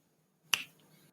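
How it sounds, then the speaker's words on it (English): One crisp finger snap rings out sharply in a quiet room, with a short soft decay afterward. "finger snaps."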